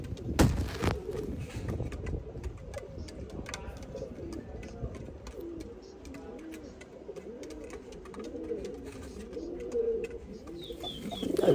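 Pigeons in a home loft coo repeatedly in soft, overlapping, warbling calls close by, with occasional wing flaps and sharp knocks, and no voices over them.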